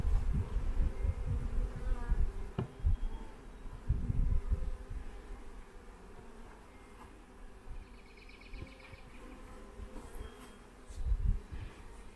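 Honey bees buzz steadily around an open hive box as a nuc is moved in, a soft close drone with individual bees droning past, plus occasional low thumps from handling the wooden boxes.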